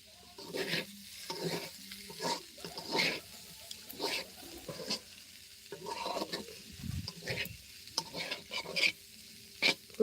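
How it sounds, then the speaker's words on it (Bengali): Food fries in a pan with steady sizzling, broken by repeated scraping stirs in an irregular rhythm. The sound is close and moderately quiet, with no talk. "ভাজাটা আমার হয়ে গেছে"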